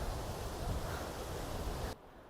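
Jogini waterfall near Manali roaring as a dense, steady wash of rushing water with no distinct events, heard from nearby before cutting off abruptly near the end.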